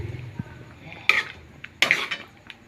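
Spaghetti with melted cheese is stirred in a pan, giving two distinct scraping clinks of utensil against metal over a quiet background.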